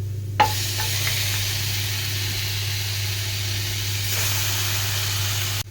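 Washed mutton seasoned with salt, pepper and turmeric drops into a hot curry pan with a soft thud. A loud, steady sizzle follows as it is stirred, with no talking.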